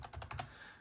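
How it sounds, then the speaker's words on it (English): Quick bursts of key clicks from an old, small clicky keyboard, about five keystrokes in an uneven rhythm over less than a second, close and fairly quiet. "I found this old keyboard, small keyboard. It's a clicky"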